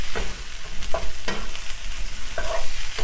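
A cauliflower pizza crust mixture with cheese sizzles loudly in a pan, its steady frying hiss broken by repeated scraping and pressing as it is worked around.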